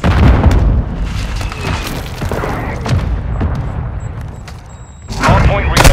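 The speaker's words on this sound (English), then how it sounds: "Hostile mortar strike near your position." Heavy booms from a mortar strike in a Call of Duty match, a loud blast at the start and another near the end, with scattered gunfire and game voice callouts between.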